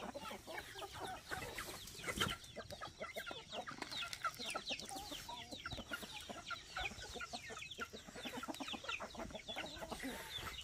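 Flock of hybrid chickens kept for laying large eggs in the hills of Lũng Cáng, clucking and chattering continuously with a few sharper calls, fairly faint and somewhat distant with no speech.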